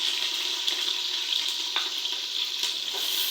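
Onions go into hot oil that already holds fried whole spices for aloo gosht, giving a loud, constant, close sizzling crackle with no talk over it.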